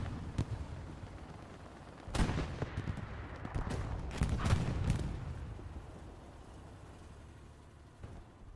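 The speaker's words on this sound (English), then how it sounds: "Red gets decimated by that 75 cannon." Several booming tank cannon blasts in the video game Hell Let Loose ring out with broadband cracks, one around two seconds, a cluster midway, and a lone shot near the end, over a rumbling battle background.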